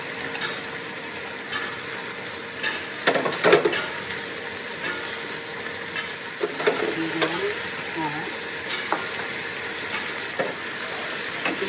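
Chicken curry ingredients with plenty of ginger frying in a pan over fairly high heat, a steady close sizzle with occasional stirring scrapes and clatters, while a person speaks intermittently.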